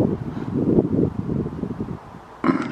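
Cold wind blowing outdoors at sunset: gusty, rumbling buffeting close to the microphone, with a sudden brighter rush of air near the end.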